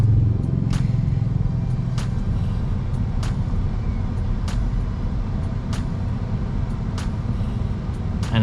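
Tesla Model Y electric SUV pulling away in traffic, heard from the cabin as a constant low road rumble with faint, regular clicking ticks over it and no voices.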